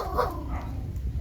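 A dog barking outside a house in the Philippines, a short, close bark or yip heard alone.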